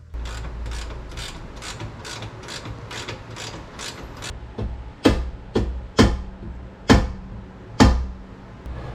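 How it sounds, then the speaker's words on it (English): A ratcheting wrench loosens bolts on a bracket on a Jeep Commander XK, first in a fast steady run of clicks, then in slower, louder single clicks, close by with no talk. "So I'm going to grab some wrenches, loosen those guys up, and get this guy installed in place."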